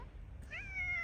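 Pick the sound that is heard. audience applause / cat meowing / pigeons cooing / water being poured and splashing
cat meowing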